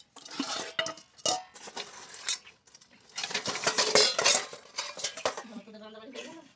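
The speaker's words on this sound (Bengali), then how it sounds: "এবার আমি ঢাকনা দিয়ে জলটা ফোটা পর্যন্ত অপেক্ষা করবো" A metal lid being handled and set on a pot of water on a gas stove, heard as several close, loud clanks and scraping clatters with short pauses between them.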